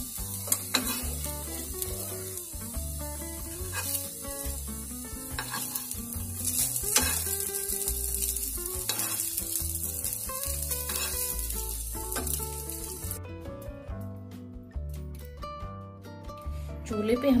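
Taro (arbi) pieces fry in hot oil until golden, a loud, continuous close sizzle with stirring clatter and low background sound, until the frying noise abruptly drops away near the end.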